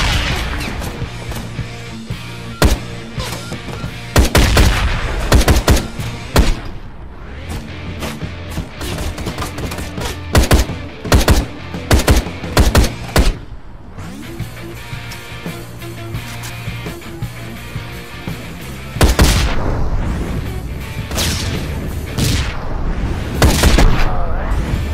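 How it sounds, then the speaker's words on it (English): Gunfire and explosive blasts from the video game Ride to Hell: Retribution, with repeated loud shots and booming bursts in clustered volleys, including rocket fire, over a steady game background. "That RPG guy's sort of kind of shooting himself."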